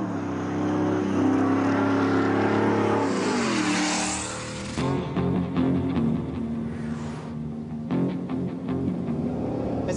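A Hennessy-modified Ford Raptor truck engine roars loudly and steadily, swelling in a rising rev before settling into a deep, rumbling drone with sharp throttle blips near the end.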